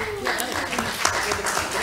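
Applause breaks out at a school board reorganization meeting, a short burst of clapping from a small room of people with voices talking over it.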